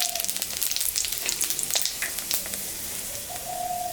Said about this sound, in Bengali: শুকনো লঙ্কা, জিরা, সম্বরা দিলাম।